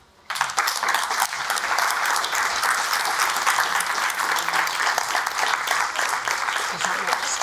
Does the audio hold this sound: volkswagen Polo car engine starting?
no